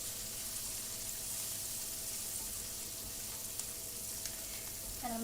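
Chopped onion fries in a warmed pan for a vegetable soup, a quiet, even sizzle with a low steady hum beneath and a few faint pops near the end, with no voices.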